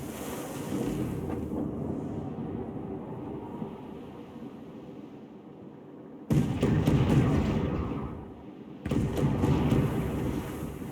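Ship cannons in Assassin's Creed IV: Black Flag fire in heavy booming blasts, two loud broadband bursts rising out of rumbling sea and wind noise.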